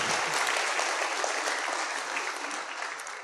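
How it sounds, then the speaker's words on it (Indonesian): A university audience at an academic-year opening worship service bursts into continuous applause, bright and crowded, holding a full, even level from start to finish. "Boleh tepuk tangan"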